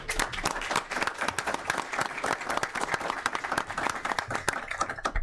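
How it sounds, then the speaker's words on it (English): Applause from the audience at a Kankakee County Board meeting: a sustained burst of many hands clapping in a room, dense and even for several seconds without talk. "I think we owe you guys a round of applause."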